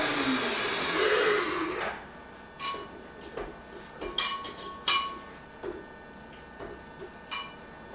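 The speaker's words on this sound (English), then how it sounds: "So we're pureeing the vinaigrette now" A kitchen blender whirs loudly for about two seconds while pureeing a vinaigrette, then cuts off, leaving scattered clinks of utensils and dishes.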